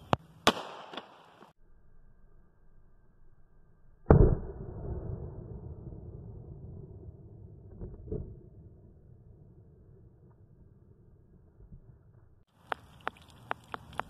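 A .45 caliber pistol is fired at body armor in an outdoor ballistics test: a single loud, sharp report midway that decays into a long rumbling tail, with a few faint clicks before and after.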